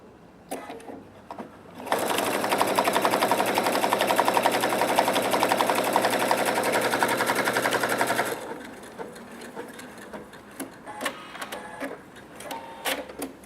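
A Pfaff Quilt Expression 4.2 sewing machine runs at steady high speed for about six seconds, stitching through thick stacked fabric layers, then stops, leaving faint handling clicks and rustles.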